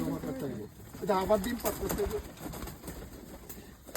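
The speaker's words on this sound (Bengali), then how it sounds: "এই হচ্ছে আমার কবুতর, সবগুলাকে খাবার দিচ্ছে" Pet pigeons and their chicks coo softly while being fed, with low throaty calls close by and people talking over them.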